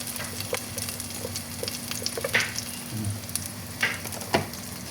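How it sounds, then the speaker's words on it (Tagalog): A pan sautéing with garlic powder for a sweet and sour fish dish, with a steady sizzle under sharp scraping stirs and clinks that come in irregular bursts, fairly close and with no talking. "Gisa-gisa muna natin. Gisa-gisa. Lagyan natin ng bawang na powder yan."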